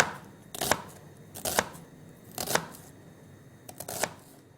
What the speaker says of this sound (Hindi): इस प्याज को मैं करूँगी स्लाइस